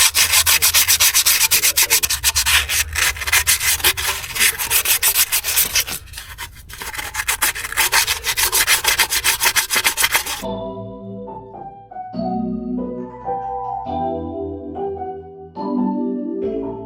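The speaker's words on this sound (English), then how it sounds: "Let's clean that mating surface off real quick. It's really dirty." A dirty cast iron mating surface on a Gen4 Cummins engine is scrubbed clean with loud, rapid back-and-forth rasping for about ten seconds. Quieter scraping and clinking follow.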